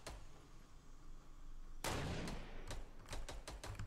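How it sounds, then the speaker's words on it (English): Gunfire in the battle royale game Fortnite: a sharp loud blast followed by a string of quick separate shots, cracking at an uneven rhythm over a low background hum. "I got some guy shooting at me"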